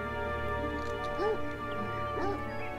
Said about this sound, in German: Du bist so komisch am Bellen.